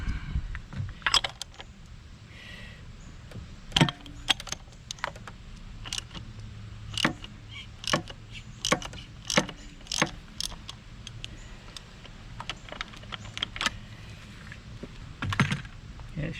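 A socket wrench on the oil filter of a Yamaha VF115 outboard, giving scattered close clicks, taps and metallic knocks at an irregular pace in a quiet space.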